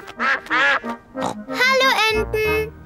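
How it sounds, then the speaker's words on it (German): Cartoon ducks quack in a rapid series of loud, bright calls at a frozen pond while being fed bread, with animated voices in the mix and a deep grunt near the end. "Kommt, wir füttern die Enten mit Brot."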